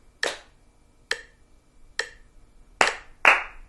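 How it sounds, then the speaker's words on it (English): Hands clap out a simple rhythm for a children's music lesson, five sharp, close claps with the last two coming faster, alone with no talking. "I will count off and clap the rhythm"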